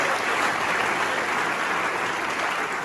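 An audience gives a round of applause to welcome the chaplain at a career event, a dense, continuous wash of clapping held at full strength throughout, with no voices over it.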